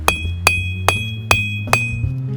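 Five evenly spaced hammer blows ring out on hot metal at the end of an anvil, each one a bright, close metallic clang with a lingering ring, alone and without voices.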